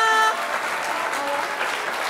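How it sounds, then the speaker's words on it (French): A television studio audience claps in a short, even burst of applause, moderately loud, following a voice that trails off at the very start. "On peut l'applaudir, au revoir."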